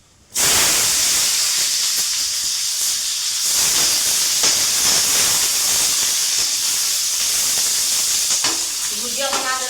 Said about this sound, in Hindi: भुजिया बना रहे हैं दोस्तों, आलू और प्याज दोनों मिर्ची में डाल के दोनों जल्दी भुजा जाएगा